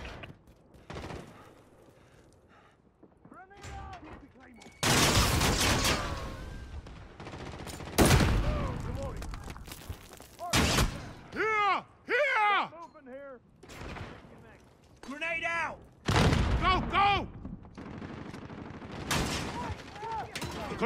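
Gunfire and explosions from the Modern Warfare video game in repeated bursts and loud broadband blasts across the clip, with voiced game callouts and clipped chirping radio-like sounds in between.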